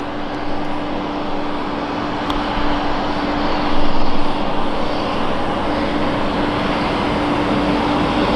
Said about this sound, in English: We've actually got a BizJet taxiing